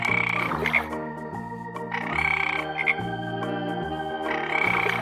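A cartoon-style frog croaks in repeated bursts about every two seconds, loud and close over steady background music.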